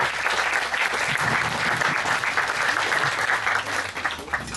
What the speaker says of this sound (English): And can we give a round of applause to the helpers today, please?